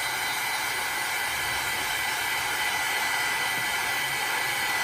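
A blow dryer drying chalk paste, a steady close whooshing airflow with a constant motor whine, even and unbroken for the whole stretch, no talking.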